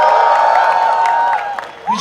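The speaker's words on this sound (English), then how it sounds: "Big round of applause for VJTI!" An audience at the Technovanza tech festival at VJTI engineering college cheers and whoops loudly with scattered clapping, high rising shouts standing out over the crowd noise before it eases slightly near the end.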